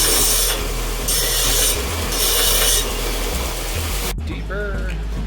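A sander works on a car intercooler part during an EK L15B7 swap, giving a loud, close rasping whine in repeated passes. It cuts off abruptly near the end, and faint talk is heard afterward.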